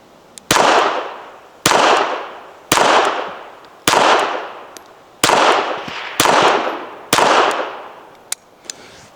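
A pistol fires seven rounds of .32 ACP at a target, each sharp loud report spaced about a second apart and trailing into a brief ringing echo outdoors, followed by a couple of faint metallic clicks.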